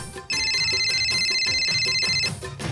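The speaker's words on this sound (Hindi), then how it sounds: "इतने में अचानक मोबाइल की घंटी बजी।" A mobile phone ringtone rings loudly and steadily, repeating a bright electronic tone pattern for about two seconds over faint background music at a Dandiya night celebration.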